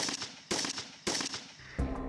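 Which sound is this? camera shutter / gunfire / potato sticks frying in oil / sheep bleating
gunfire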